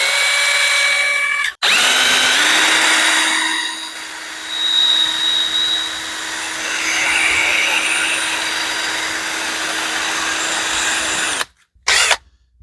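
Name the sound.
drill spinning glove box hinge part against sandpaper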